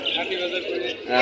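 Doves cooing at a pigeon market in Hasnabad, Bangladesh, a soft short call heard close by under people talking.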